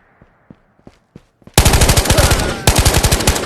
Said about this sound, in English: He's shooting him.